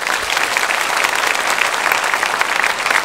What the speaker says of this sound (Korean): 새가족을 박수로 환영하겠습니다